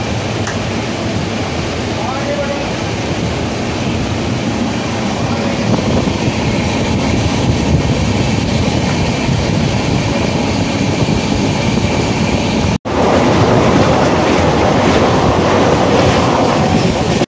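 Passenger train from Cuttack to Habra running at speed, a loud, continuous rumble with rhythmic clickety-clack heard from inside the carriage, briefly cut by a sharp break before resuming.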